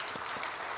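Church congregation clapping together in a brief, steady burst of applause, dense and even throughout with no voices above it.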